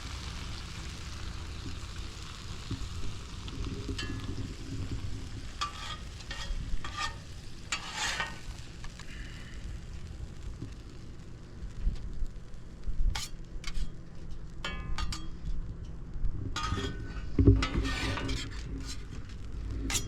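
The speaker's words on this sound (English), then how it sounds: "We're going to saute those just a little bit and try and get some of the moisture out of them." Food for a southwestern breakfast sautés in a skillet with a soft, low sizzle, punctuated by occasional stirring scrapes and light clinks of the utensil.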